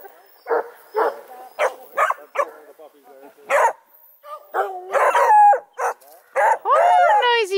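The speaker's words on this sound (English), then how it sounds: "Oh, noisy puppies." Four-month-old Redbone Coonhound puppies bark in a string of sharp yips, then break into rising, wavering howls, close and loud, with someone talking to them between the calls.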